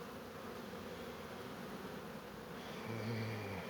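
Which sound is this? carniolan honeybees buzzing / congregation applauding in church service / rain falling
carniolan honeybees buzzing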